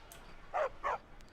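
A dog in the video game Skyrim gives two quick, moderately loud barks in a row within a quiet moment, with no talk over them.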